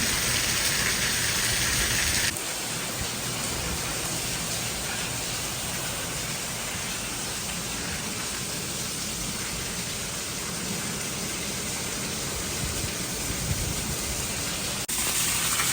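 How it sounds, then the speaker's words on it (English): Steady, dense rain falling outside at a historic prison complex, a continuous broadband hiss with no breaks or individual drops standing out, even in loudness throughout, with no voices. "And that's what the rain looks like at the moment"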